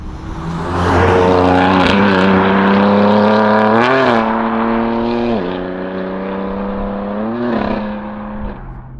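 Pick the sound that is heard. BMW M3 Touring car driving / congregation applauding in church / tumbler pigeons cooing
BMW M3 Touring car driving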